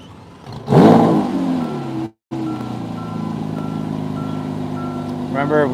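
A Lamborghini Aventador LP780-4 Ultimae V12 cranks and fires up with a loud burst, then settles into a steady, close idle that drones on with a brief dropout midway, and voices are heard briefly.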